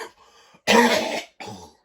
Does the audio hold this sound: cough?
yes